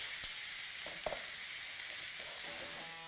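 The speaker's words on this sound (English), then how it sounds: "let's flip our steak right over here" A rib eye steak sizzles steadily in a hot pan with lime juice, a couple of brief utensil knocks as it is flipped over, the frying hiss continuous and close throughout.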